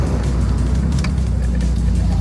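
Loud modified car engine with a Honda Acura 2.2 swap, idling and running steadily up close with a constant low rumble throughout.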